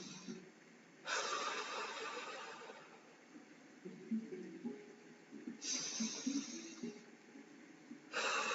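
Slow, deep breaths during a guided meditation, each a long airy inhale or exhale of about one to two seconds, separated by quiet pauses with soft low background sound.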